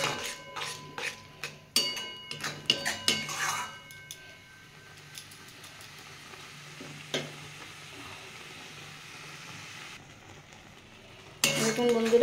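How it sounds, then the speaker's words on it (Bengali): Spiced raw mango mixture with chilli powder being stirred in a pan over a raised gas flame, with spoon scrapes and clinks against the pan over a low sizzle, sparse at first and then steadier. "এবার এটাকে সমানে নাড়তে হবে।"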